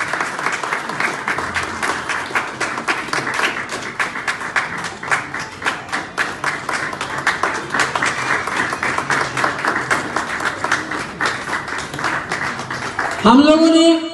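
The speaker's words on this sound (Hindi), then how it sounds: "जोरदार ताली सर।" Loud, dense applause from a crowd at an indoor gathering, steady throughout, with a brief burst of voices near the end.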